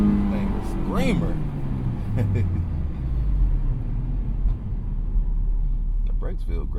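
A Honda S2000 AP1 engine revving high on uneven pavement, a rising and falling whine over low road rumble in the cabin, with a voice talking over it.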